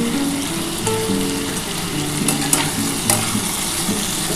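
Tomatoes sizzle and crackle in hot oil with onions in a pan while a street-style ghugni is cooked, a steady close frying hiss with faint stirring clicks and no talking.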